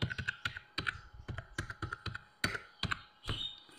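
Someone typing a ten-digit mobile number on a computer keyboard, a run of distinct, close key taps in an uneven rhythm with brief pauses.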